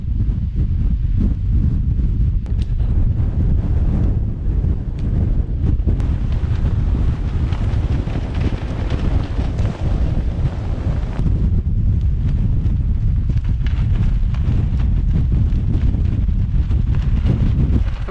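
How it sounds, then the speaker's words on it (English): Strong wind buffets a camping tent pitched in rain and windy conditions, a loud, continuous roaring gust noise with rumbling blasts and no letup across the whole stretch. "I've got no idea what the wind speed is."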